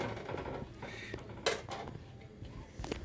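A metal lid set over a pan of hilsa fish cooking on the stove: soft clinks and scrapes of metal, one sharper clang near the middle, and a final small knock, all close and moderately quiet.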